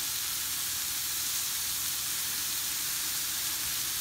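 Morel mushrooms browning in a frying pan give off a steady, soft sizzle and hiss, even and close, with no talking.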